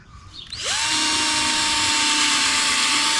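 A drill spins a Powerball buffer on a plastic Honda Element headlight lens, spooling up quickly into a loud, steady high whine that holds evenly to the end.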